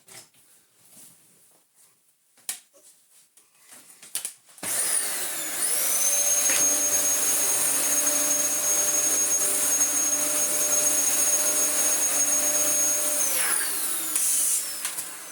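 A restored Dyson DC14 upright vacuum cleaner switches on after some quiet handling noises, rising into a steady loud whine with a high motor tone that holds for about ten seconds before spinning down.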